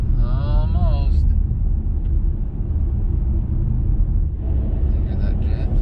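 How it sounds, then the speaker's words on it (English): A steady, loud low rumble of a jet passing overhead near Lake Superior in winter, continuous throughout with brief higher whines near the start and end. "Hear that jet flying over again?"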